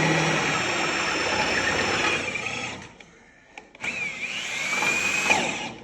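A power drill drives bolts down into the decking of an old RV trailer, whirring loud and close, cutting out briefly around the middle and then starting again with a rising, straining whine.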